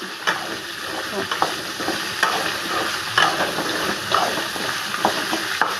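Ingredients sautéing in a pan give a steady, close sizzle, broken by frequent clicks and scrapes of stirring with no talking.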